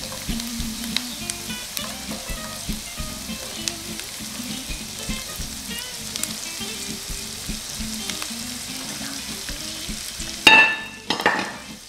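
Shallots and dried cherries sizzle steadily in a hot pan with fresh thyme, a continuous close frying crackle with small stirring bumps throughout, ending in a brief louder burst near the end.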